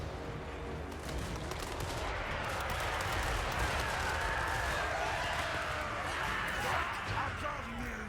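Continuous battlefield gunfire from a video game crackles throughout, with dense overlapping shots forming a steady rattling din under talking.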